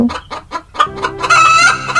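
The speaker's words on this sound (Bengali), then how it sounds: "ইয়ামিনের মুরগিগুলোর উপর তার নজর ছিল" Cartoon chickens cluck loudly in a quick series of short calls, then break into a longer, drawn-out squawking cry, with no talking.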